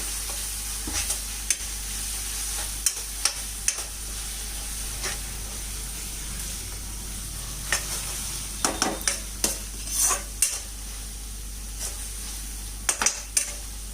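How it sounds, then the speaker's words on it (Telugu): Masala gravy for an egg curry fries in oil as garam masala is stirred in: a quiet, constant sizzle punctuated by scattered clinks and scrapes of a spoon against the pan. "వేసాక పచ్చిదనం పోయేంత వరకు ఆయిల్లో ఫ్రై చేస్తూ ఉండాలి. తర్వాత గరం మసాలా వేసి మిక్స్ చేసుకోవాలి."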